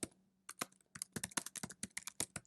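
Quick bursts of computer keyboard typing as a property address is entered, irregular clusters of crisp key clicks with short pauses between, close and fairly quiet.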